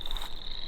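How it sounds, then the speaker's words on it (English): Chorus frogs call from a wetland edge in a forested area, a dense, continuous high-pitched trilling chorus heard from some distance, steady and unbroken. "You can hear those chorus frogs calling out there."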